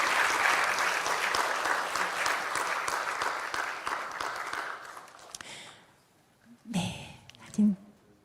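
Clapping from the congregation at a 70th-anniversary thanksgiving service for Saegajeong magazine, after a plaque is presented, sounds steady and full for about five seconds, then fades out, followed by a few brief, louder voices or handling sounds.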